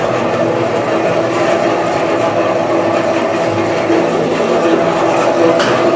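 A machine mixes trout feed powder with half a litre of water, giving a loud, steady mechanical drone with a broad, even rumble that runs without pause and with no voices.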